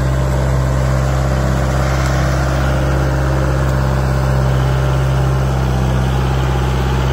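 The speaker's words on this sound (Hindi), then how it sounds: "ट्रैक्टर चल रहा है अभी" Two-wheel-drive tractor, differential lock engaged, working a wet field with its engine running as a loud, steady low drone close by, with no break in the rumble.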